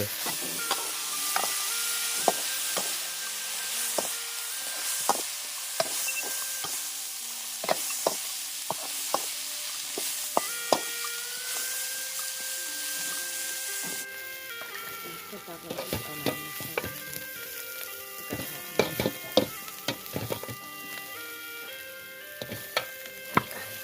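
Insects frying in a little oil in a pan make a continuous crackling sizzle with frequent sharp pops and clicks of stirring, close by, while a person talks over parts of it.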